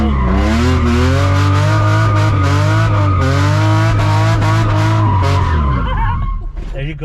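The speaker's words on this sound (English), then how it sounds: "turn the wheel all the way, hold the gas, and just hold the wheel like that and do a donut inward" A Nissan 350Z drifts through a donut, its tires skidding and squealing loudly against the sustained roar of the engine held on the gas, the screech fading out near the end.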